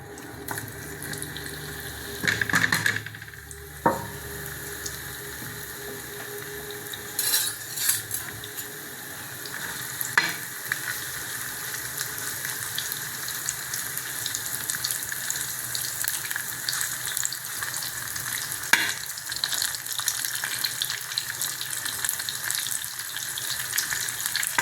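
Marinated paneer cubes fry in oil on a flat iron dosa tawa, a steady close sizzle with a louder burst and clatter early on, then an even hiss that continues alone.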